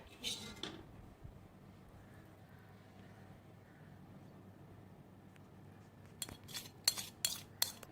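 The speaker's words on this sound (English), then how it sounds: "You can hear the sound of me scraping the pot to make sure I get all the curry goodness." A spoon scrapes the bottom of a pot of Malabar chicken biryani curry, with a faint clink at the start and then a burst of quick metallic scrapes and taps near the end, mostly quiet between.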